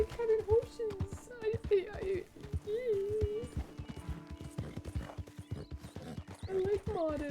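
Horse hooves clip-clop in a video game with rapid regular steps and a whinny, under a talking voice and soft background music.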